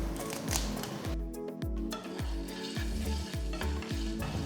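Peppercorns, raw rice, garlic and curry leaves dry roast in a pan, with a continuous sizzle and repeated rhythmic scraping strokes of stirring, close and fairly loud.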